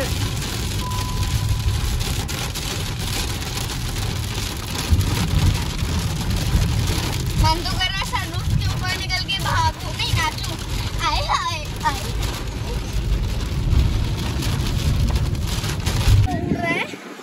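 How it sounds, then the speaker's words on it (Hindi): Rain falling on a car during a road trip from Mumbai to Jaipur, a steady wash of noise over the road rumble, with people talking and a voice in the middle. "और ये देख बारिश"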